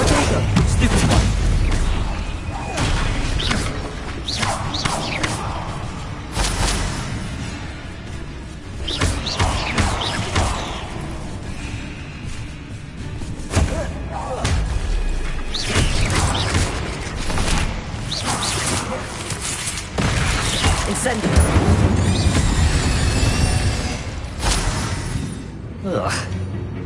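Incendio and Confringo spells explode in Hogwarts Legacy, a series of loud booms and crashing bursts spread irregularly over nearly half a minute, with battle noise in between and a voice speaking at times.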